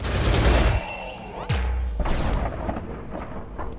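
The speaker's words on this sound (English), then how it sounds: "Holy crap, this thing like unloads all of the bullets at once." A gun in the video game Perish unloads all its rounds at once: a heavy booming blast, then a second big burst with rumbling decay, loud and alone.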